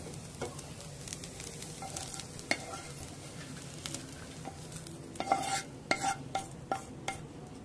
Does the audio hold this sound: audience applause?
no